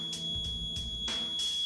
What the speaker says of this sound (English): When this sharp point hits the head, you hear a beep.